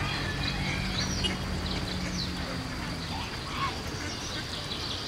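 Ducks quack now and then over an outdoor bed of birdsong and murmuring background sound, moderately distant and soft.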